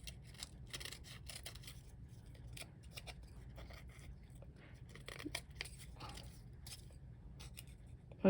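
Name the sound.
scissors cutting excess off popsicle stick bookmark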